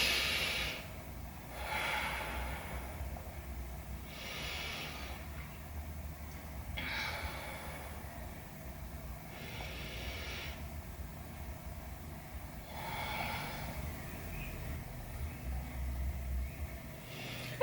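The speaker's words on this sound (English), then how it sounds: "let's take 3 deep breaths here" Slow deep breaths during a yoga session, long airy inhales and exhales repeating roughly every few seconds, soft and close over a low background rumble.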